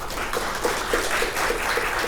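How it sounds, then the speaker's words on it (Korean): Audience at a Seoul city bus service policy forum applauding steadily to welcome a keynote speaker; even, continuous clapping from a crowd in a hall, moderately loud. "큰 박수로 환영해 주시기 바랍니다."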